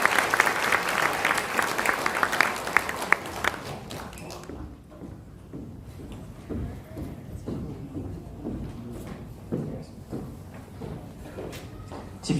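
A church congregation at an ordination and pastoral installation service bursts into dense, loud applause that thins after a few seconds into scattered lingering claps.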